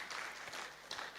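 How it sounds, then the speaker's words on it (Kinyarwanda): A congregation claps together during a lively worship service, a dense, even patter of many hands that stays fairly faint and distant throughout. "Let us clap for our Lord."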